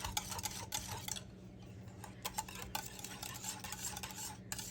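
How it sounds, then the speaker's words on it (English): Butterscotch jello powder being stirred into cold milk, a quick steady run of close scraping and ticking whisk strokes against a bowl, brisk and continuous with brief pauses. "And you just keep mixing until it gets thick."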